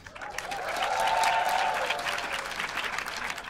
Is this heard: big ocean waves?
no